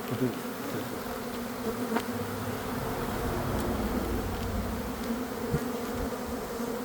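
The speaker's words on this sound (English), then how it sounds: "A lot of bees." Many bees buzz continuously around a hive split, a dense close-up drone that fills the air with occasional louder passes near the microphone and no talking.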